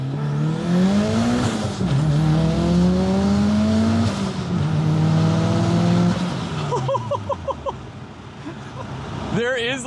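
A turbocharged Mitsubishi Eclipse GSX with 240,000 miles and doubled horsepower accelerates hard, engine rising in pitch through two gear shifts with brief drops between, then easing off as voices chatter near the end.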